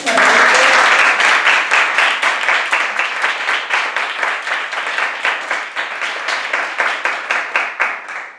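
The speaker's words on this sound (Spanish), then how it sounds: "lo primero que les quería pedir es un aplauso." Audience applause at a cartonera poetry event in London honoring poet Elvira Hernández, loud at first, then settling into a steady, somewhat rhythmic clapping that holds on before tapering slightly.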